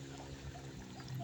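Water pouring and trickling steadily close by, a soft continuous splashing flow with a low steady hum underneath.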